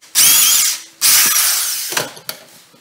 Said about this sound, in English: Now we need to drill a pencil size hole right down the middle